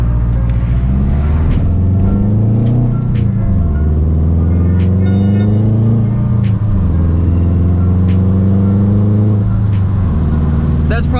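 Subaru WRX engine under hard acceleration, a loud, steady rumbling drone with pitch climbing and dropping at gear shifts, close up and continuous throughout.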